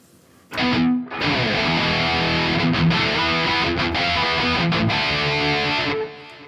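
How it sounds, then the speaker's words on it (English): A thick, heavily distorted electric guitar chord through a ToneX amp profile rings out loud and sustained, with a few brief choppy breaks, then cuts off near the end. "the distortion got a lot richer because we are sort of pushing some mid-range through this tone model"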